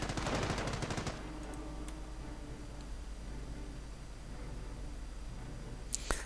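.30 caliber machine gun fire in a WWII strategy video game: a rapid, dense burst of automatic fire opens loudly, then gives way to a steady battle-noise bed with a faint sharp report near the end.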